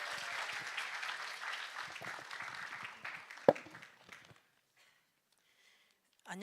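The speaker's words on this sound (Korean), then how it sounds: "박수하도록 하겠습니다." A church congregation applauds for a child about to give testimony, steady clapping that tapers off and stops after about four seconds, leaving near silence.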